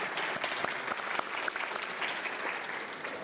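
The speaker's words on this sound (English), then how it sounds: "a round of applause" Audience applause at a civic educators conference keynote, a dense continuous patter of many hands, moderately quiet and steady for the whole stretch.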